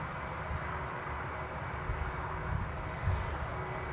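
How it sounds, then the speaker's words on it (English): British Airways airliner taxiing out at Newcastle International Airport, a steady distant jet engine roar with a low rumbling undertone, continuous and unbroken throughout. "That is also taxiing out."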